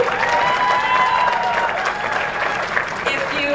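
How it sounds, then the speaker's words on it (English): A crowd at the Taste of Tulalip 2012 food event breaks into sustained applause, a thick wash of clapping with faint cheering, steady and fairly loud throughout. "I'm applauding."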